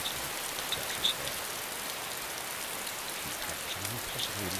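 Steady rain falls across an outdoor scene in the survival game DayZ, a dense continuous hiss with a few faint brief ticks of drops, no voices.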